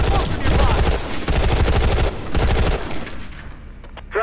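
Rapid automatic gunfire from a Planetside 2 shooter game, with dense, loud bursts of shots that run almost continuously, pausing briefly before tapering off near the end.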